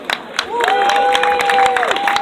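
An audience claps and cheers for a performer, a scattered crowd applause with a sustained whistle-like tone ringing over it for most of its length.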